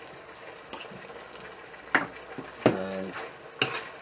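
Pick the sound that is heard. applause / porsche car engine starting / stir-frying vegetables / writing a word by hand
stir-frying vegetables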